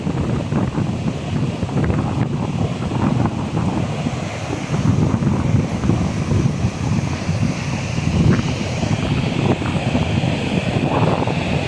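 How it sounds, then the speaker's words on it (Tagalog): Strong wind roars steadily across the microphone at sea, with rough surf and waves rushing underneath, continuous and loud throughout. "Lakas ng hangin."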